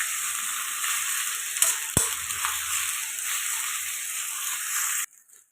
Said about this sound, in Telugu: అల్లం వెల్లుల్లి పేస్ట్ ఇలా ఫ్రై అవుతుంది కదండి